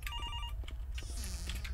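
A telephone rings on and on with no answering machine picking up. The electronic trill is steady and moderately loud against a low background hum.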